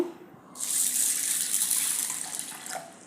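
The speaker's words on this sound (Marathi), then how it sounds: "ह्या डाळीमध्ये पाणी घालून घेऊया" Water gushes into toor dal in a pot for a dal and potato amti, a steady close pour of a few seconds that tapers at the end.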